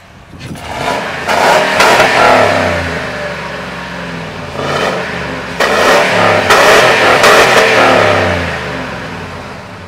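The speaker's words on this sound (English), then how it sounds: "revving on his Ford piece of crap truck" A Ford pickup truck engine revs loudly in repeated bursts, surging up against a rev limiter and dropping back between pulls, close and alone with no talk.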